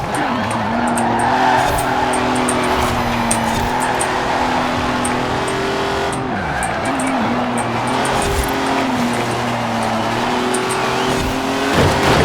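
Racing cars, including Mercedes CLK GTRs, roar through a race in the video game Forza Horizon 4. Engines rev and shift continuously, with tire squeal and skidding. The sound is loud and sustained for the whole stretch, with no talk over it.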